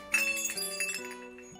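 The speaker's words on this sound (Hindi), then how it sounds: "ये घंटी बजाओ।" A bright metallic temple bell rings once at a Shiva shrine and its tone hangs, shimmering and fading over a quiet background.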